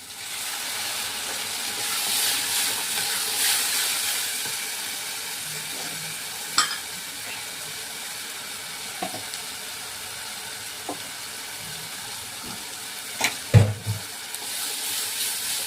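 Spice paste hits hot oil in a pan of fried potatoes with a loud hissing sizzle that settles into a softer steady crackle, punctuated by occasional spoon clanks and a few sharp knocks near the end.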